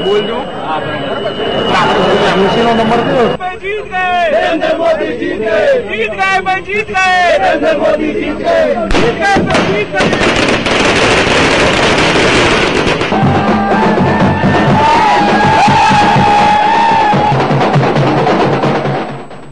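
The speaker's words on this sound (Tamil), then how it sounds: "பாரதிய ஜனதா தொண்டர்கள் வாத்திய கருவிகளை இசைத்தும் பட்டாசுகளை வெடித்து இனிப்புகள் பரிமாறியும் வெற்றி முழக்கங்களோடு கொண்டாடி வருகின்றனர்" BJP workers celebrate a victory in Gujarat with rapid strings of bursting firecrackers, drums and instruments, and loud crowd chants, a dense, roaring mix with voices throughout.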